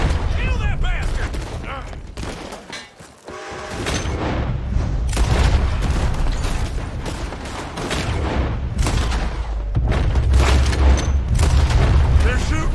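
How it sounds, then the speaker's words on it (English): Rapid, dense gunfire in a Red Dead Redemption 2 shootout, with sharp overlapping shots and booming reports, loud and nearly continuous, with a brief lull partway through and shouting voices mixed in. "They're shooting from that building!"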